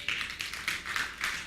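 Congregation applauding during a church sermon, a steady burst of many hands clapping with rhythmic swells, fairly close and filling the room, no voices over it.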